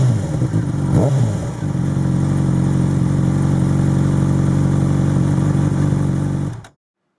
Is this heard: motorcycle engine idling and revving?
yes